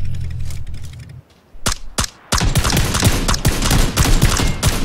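Rapid bursts of gunfire ring out in the video game PlayerUnknown's Battlegrounds, with a few single loud shots followed by a sustained, dense volley of close, cracking rounds.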